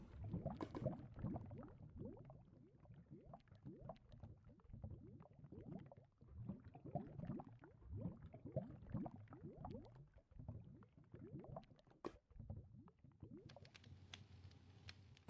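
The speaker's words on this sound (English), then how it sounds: "It's because I've got lava bubbling downstairs." Lava bubbles and pops in Minecraft, a busy run of soft, irregular gurgles and plops that keeps going at a modest level, with no voices.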